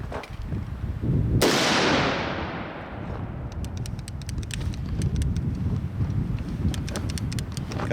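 A single loud gunshot fired while testing a red dot sight at an outdoor range, a sharp blast followed by a long decaying echo, then steady background noise with faint distant pops.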